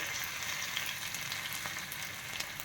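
Soaked dal and ginger fry in a pan with mustard seeds, giving a steady, quiet sizzle with light crackles and pops throughout and no voices.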